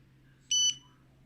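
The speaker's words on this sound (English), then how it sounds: "Loud beep." A single loud electronic beep from an Andoer A360II camera, a short pure high-pitched tone lasting about a fifth of a second against quiet background hum.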